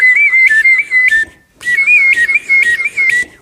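A palate whistle performs a double warble: two bursts of rapid, bright warbling trills with a short gap between them, loud and close, with no talk.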